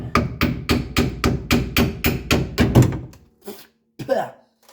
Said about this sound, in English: Get a little bit of a tap hammer in there. Just a little tap.